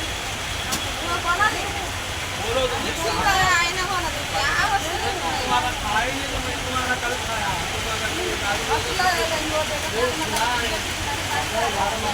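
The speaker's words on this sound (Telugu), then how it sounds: "వర్షం మొదలైంది, స్టార్ట్ అయింది." Rain falling in Mahabubnagar, a steady broadband patter and hiss that holds throughout, with someone talking over it.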